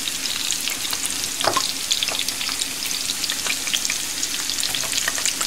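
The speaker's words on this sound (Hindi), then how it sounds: "तीन चौथाई कप ऑयल में हमने चौथाई कप प्याज डाली चॉप्ड" Chopped onions frying in about three quarters of a cup of oil for kadhi, a loud, dense sizzle and crackle with scattered spatters and the occasional scrape of a stirring spoon, close by and with no talk.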